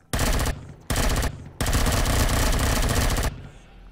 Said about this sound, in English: we'll show you a little bit of the gunplay here, though. Sure, it's my assault rifle